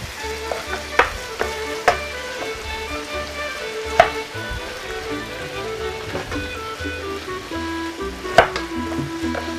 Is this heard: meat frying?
yes